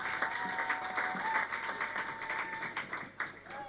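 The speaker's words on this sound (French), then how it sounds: "Applaudissez donc pour vous-même." Applause from a French-speaking church congregation after a sermon point, uneven bursts of clapping and crowd noise, fairly close, with a voice briefly audible over it.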